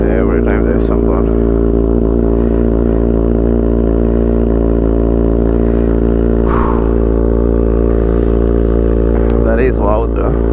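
Kawasaki ZX6R sport bike fitted with an Austin Racing GP1RR exhaust, cold-started and idling at about 2000 RPM, gives a loud, steady, close drone throughout, with occasional light clatter and brief voices over it.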